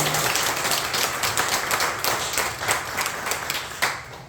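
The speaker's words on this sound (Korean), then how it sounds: "수고해 주신 목사님께 다시 한번 큰 박수 부탁드립니다." A church congregation applauds the pastor after a Sunday afternoon worship concert, a steady wash of hand clapping with a few sharper claps standing out, filling the room at even loudness throughout.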